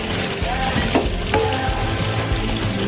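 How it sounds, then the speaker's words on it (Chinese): Shrimp sizzle steadily in a generous amount of hot oil in a pan, the first step of a home-style spicy stir-fry pot, with a continuous close crackle and a few faint clinks. "锅里面多倒点油，先把虾煎一下"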